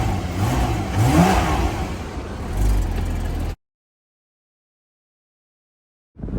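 Engine of a front-end-damaged Porsche Boxster convertible revs and settles with a rough mid-range drone, then the sound cuts to silence before briefly returning.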